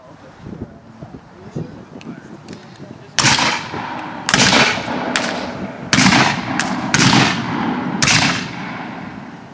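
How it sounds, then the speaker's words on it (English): Replica 12-pound mountain howitzer cannon fires in a series of loud, sharp booms from about three seconds on, roughly six or seven blasts each with a rolling tail, preceded by quieter outdoor murmur and voices. "Replica of a 12-pound mountain howitzer."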